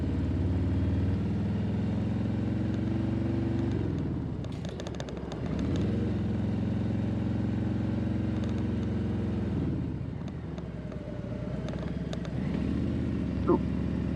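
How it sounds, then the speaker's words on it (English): Motorcycles in a group, with a police escort, roll past on an Alabama road, their engines a loud continuous rumble that swells and fades twice over a steady idle, ending with a brief sharp tone. "Here comes a whole bunch of bikes."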